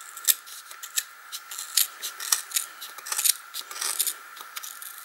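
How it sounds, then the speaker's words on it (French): Scissors snip through yarn wound on a jumbo pom pom maker, a quick run of close, crisp cuts with light metallic clicks coming in an uneven rhythm for several seconds. "Et avec nos ciseaux, nous allons couper."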